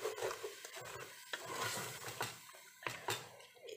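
Pieces of Persian lamb shank are stirred in their marinade juice in a hot pan, giving a quiet sizzle under repeated scraping and clattering strokes of a utensil against the pan.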